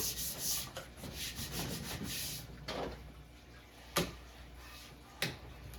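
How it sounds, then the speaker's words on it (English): A palm rubs along a surface on a Journey arcade cabinet during restoration, making soft, close, continuous rubbing strokes with two sharp knocks near the end. "If you rub your palm along it, the heat from your body helps too."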